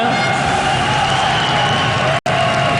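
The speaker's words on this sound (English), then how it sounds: "French crowd is just crazy" A French crowd roars and cheers at a League of Legends LCS esports event, a dense, sustained wall of voices with a brief cut near the end.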